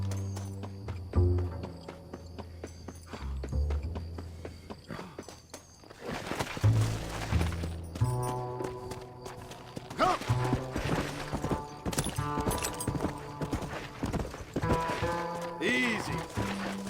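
Horse hooves clip-clopping at a steady walking rhythm in Red Dead Redemption, close and clear alongside game music and occasional voices.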